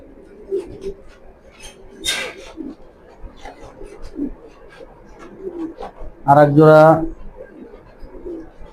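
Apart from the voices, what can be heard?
racing pigeons cooing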